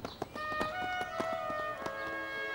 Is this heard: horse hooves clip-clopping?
yes